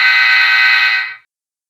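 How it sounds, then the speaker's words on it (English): Soundtraxx K5LA diesel locomotive horn sound, first of three options from a model train sound decoder, one loud sustained chord-like blast of just over a second that cuts off abruptly, with no other sound. "Soundtraxx very handily provide you with three slightly different sounding K5LA horns"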